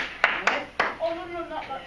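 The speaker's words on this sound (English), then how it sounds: "will you give me a double clap so I know who's done?" Two quick hand claps close together in a classroom, followed by faint voices talking in the room.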